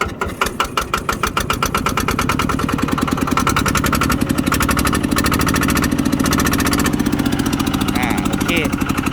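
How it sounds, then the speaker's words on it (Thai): A freshly rebuilt 110cc standard motorcycle engine is revved while running, giving a loud, close, buzzing rattle that rises and holds steady, with someone talking over it. "ลองเร่งสักนิดได้ไหม"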